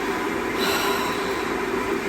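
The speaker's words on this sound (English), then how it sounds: "so that's the kettle boiling" An electric kettle boils water indoors, giving a steady, loud rushing rumble with an even hiss that holds without a break.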